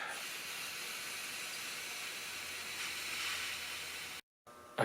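Compressed air hissing steadily as it forces brake caliper pistons out, a continuous bright hiss up close, briefly cutting off near the end before a short burst resumes.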